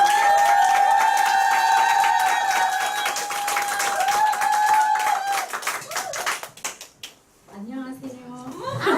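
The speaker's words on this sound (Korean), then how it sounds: "그러면 큰 박수 부탁드리겠습니다" Audience applause and cheering at a Nu Skin business group seminar in Korea, dense clapping with high whistle-like cheers for several seconds, then thinning out into a speaker's voice near the end.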